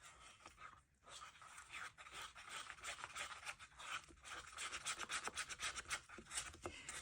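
A stick stirs mica powder into epoxy resin in a cup, making continuous close scraping and rubbing strokes in an uneven rhythm that grow slightly faster and busier toward the end.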